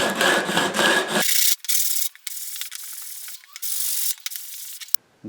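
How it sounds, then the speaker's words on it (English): A few quick scraping strokes of a sanding block rubbing back and forth on a wooden guitar fretboard, flushing inlay dots, loud and close, with brief pauses between passes. "a quick pass with the sanding block just to flush them back to the fretboard"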